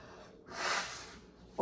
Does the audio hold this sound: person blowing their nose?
yes